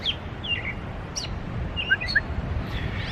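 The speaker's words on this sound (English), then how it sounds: "a little special bird here singing to me" A small bird chirps and tweets in short, scattered high calls over a soft low background hum, fairly faint and without talk.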